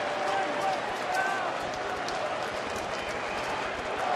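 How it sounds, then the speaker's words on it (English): A sellout baseball crowd at Miller Park cheers and roars in a steady, dense wash of noise, with faint whistles rising above it and a broadcast voice speaking over the top. "Sellout crowd on its feet here at Miller Park"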